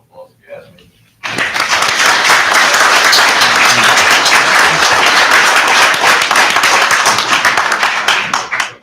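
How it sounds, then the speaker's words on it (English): Loud, sustained applause from an audience at a city council meeting, dense steady clapping that starts abruptly after a brief quiet moment and continues for several seconds before fading. "they deserve another round of applause if you ask me"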